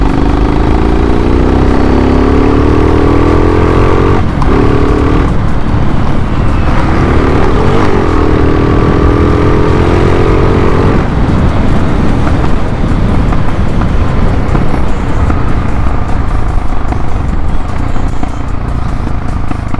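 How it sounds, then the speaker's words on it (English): A loud, rough motorcycle engine with a Husqvarna exhaust and Pipercross air filter roars close by, with gear-change drops and surges, then a dense steady rumble of riding noise. "if I'm going to accelerate, Obviously I have a really loud Husqvarna exhaust"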